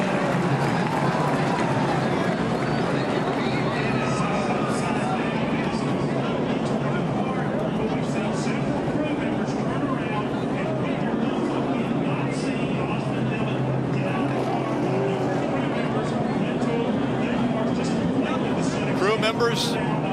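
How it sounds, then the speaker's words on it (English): A big stock car race crowd roars after a crash, a sustained dense wall of cheering and shouting that swells and carries on without a break, heard from within the grandstand atmosphere. "the crowd roars"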